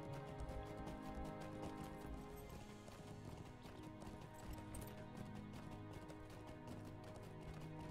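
Horse hooves clip-clop at a steady riding pace in Lord of the Rings Online, a continuous rhythmic patter set against the game's music and ambience, fairly quiet overall.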